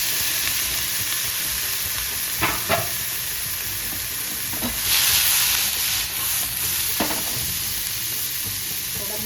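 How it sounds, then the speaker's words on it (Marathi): Capsicum and tomato frying on a high flame sizzle and hiss steadily in a pan at close range, and a few sharp clinks and scrapes of stirring break through the sizzle. No one speaks. "ढोबळी मिरची आहे बघा हे शिमला मिरची म्हणतात ते आणि टोमॅटो हे फ्राय करून घ्यायचे"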